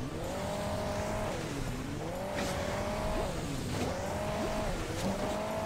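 A car in the mobile driving game Hill Climb Racing 2 runs through a deep-water driving stage, its engine tone rising and falling in repeated revving cycles over a continuous game-sound bed, with no talk.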